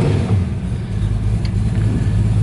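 A 1965 Ford Mustang convertible drives along with a steady, rumbling mid-pitched engine drone and road noise, heard continuously and close from inside the car.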